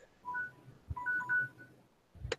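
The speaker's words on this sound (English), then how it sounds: "Sorry, it's my phone." A mobile phone rings during a video game session, a short electronic melody of steady tones repeating in bursts, faint to moderate and heard alone, ending with a brief louder electronic chirp.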